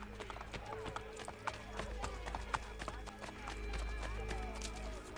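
Hooves of an armored horse in Assassin's Creed Brotherhood clop steadily at close range, with game ambience and scattered clicks around them.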